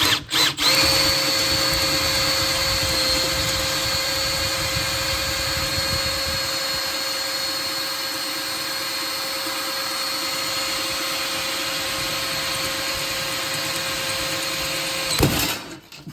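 A second power drill bores through metal on a vehicle's bumper bracket area, one loud continuous whine with a steady pitch that runs almost the whole time before cutting off abruptly near the end.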